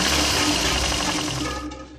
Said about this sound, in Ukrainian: Адже прямо посеред поля у машини стуканув мотор.